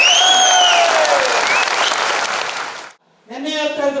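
A crowd applauds and cheers at a drivers' convention honouring transport minister Ramalinga Reddy, with raised voices riding over the clapping before it cuts off abruptly, followed by a voice speaking.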